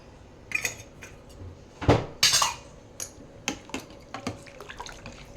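A spoon stirs cumin, fenugreek and mustard powders into papu charu in a metal pot, giving irregular clinks and scrapes against the pot with a few sharper knocks, close by, with no talking.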